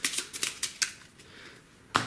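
Board game cards being shuffled for Navajo Wars: a run of quick, crisp riffling snaps and flutters up close, then a lull and a final sharp snap, with no voices.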